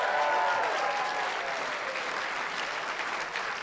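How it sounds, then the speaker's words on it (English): A comedy club audience claps in a short, full burst of applause that stays steady and then slightly thins over a few seconds, with no talking over it. "Clap it up for me, just turned 22."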